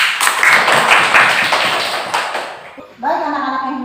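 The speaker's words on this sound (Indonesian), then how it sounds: "Kita kasih tepuk tangan untuk Karisma dan Dinda." Short burst of clapping from a classroom of schoolchildren, scattered hand claps over the first three seconds that fade out, followed by a voice speaking.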